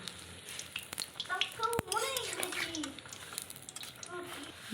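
Oil pitha, sweet Bengali fritters, frying in hot oil with a steady crackling sizzle throughout, while someone speaks over it.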